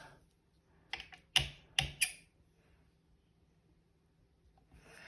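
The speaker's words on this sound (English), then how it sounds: "we're gonna stamp it all the way across the envelope" A rubber stamp presses flower prints across an envelope flap, giving four sharp taps in quick succession against a quiet background.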